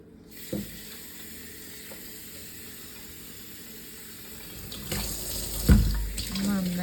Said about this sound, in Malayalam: ഈ പഴമില്ലേ ഒന്ന് കഴുകിയെടുക്കാം